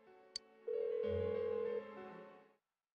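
An unanswered phone rings in the video game Persona 4 Golden: a sustained electronic ring with a steady tone that holds for about two seconds, then fades out, preceded by a brief click.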